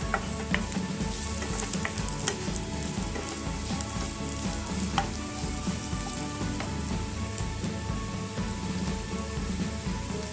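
Ginger and whole spices fry in a pan for a kadai paneer, a steady close sizzle with scattered crackles and pops, occasional stirring scrapes, no voices.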